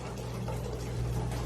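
Apple cider beer pours steadily into a crock pot of pork, a continuous close liquid gush with a low hum underneath and no talking.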